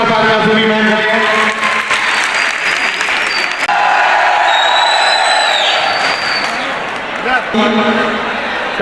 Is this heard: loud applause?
yes